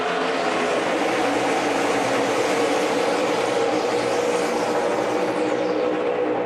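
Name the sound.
NASCAR race car engines revving at Pocono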